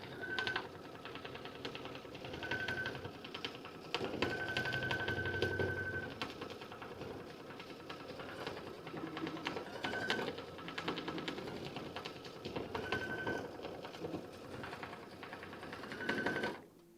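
Quilting machine stitching an edge-to-edge pattern across a tote, a steady fast mechanical chatter near and continuous, with recurring short high whines as the carriage moves.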